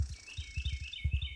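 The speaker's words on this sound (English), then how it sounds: "You can hear all the birds in the background." Birds chirp faintly in woods around an abandoned house. Quick high tweets repeat over soft low rustling and thumps, with no talking.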